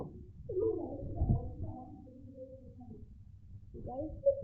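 A newborn kitten gives thin, high mewing cries close by, several short calls scattered through the moment, with low handling noise and background rustle underneath.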